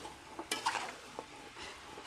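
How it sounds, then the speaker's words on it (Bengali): Beef being stirred and seared in a pan over a wood-fired clay stove, with several clinking scrapes and short bursts of sizzling, fairly close and moderately quiet, no talking. "মাখানো শেষ, মাংস কষাচ্ছি খড়ির চুলায়, চুলাটাও কি সুন্দর জ্বলছে।"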